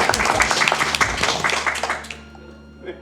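A burst of hand clapping from a small group during a charity speedrun livestream, quick overlapping claps for about two seconds, then tapering off into quiet background hum.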